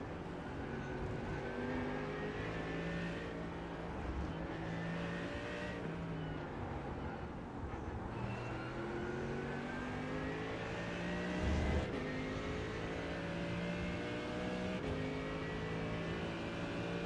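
Ford Mustang GT3 race car engine roaring continuously in a racing video game at The Bend, steady loud revving with shifting pitch as it accelerates and changes gear, other cars faintly around.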